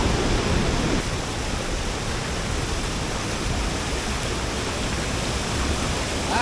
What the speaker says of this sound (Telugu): మెయిన్ వాటర్ ఫాల్స్ కనిపిస్తుంది వాటర్ ఫాల్స్ మాత్రం ఫుల్ ఫ్లో అయితే ఉంది